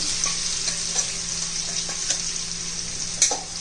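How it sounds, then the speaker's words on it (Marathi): Mustard greens sauté in hot oil with cumin and a crushed garlic and green chilli paste, a constant close sizzle broken by a few soft stirring clicks. "तेलामध्ये चांगली अशी परतून घ्यायची"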